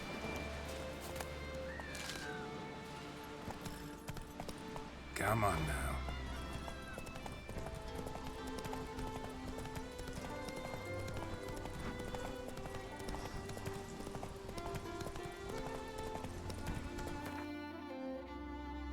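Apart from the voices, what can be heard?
horse Roach galloping, hooves clip-clopping, in video game Witcher 3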